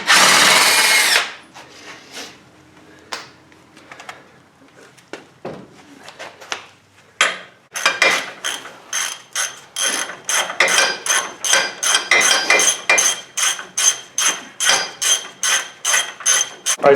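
Power tool spinning off upper and lower ball joint nuts on a vehicle suspension: a long loud burst opens, then scattered clicks and knocks, followed by a steady run of rapid rhythmic impact hammering close by.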